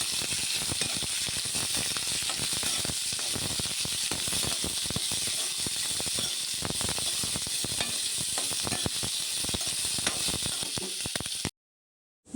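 Chopped onions frying in hot oil give a steady, bright sizzle with crackling spits, loud and close, before cutting to silence at the very end.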